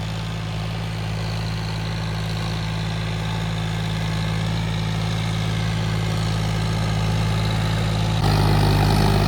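A 50 HP John Deere tractor engine running steadily, a loud, close, continuous low throb with a constant hum that rises slightly in the last second, with no talk.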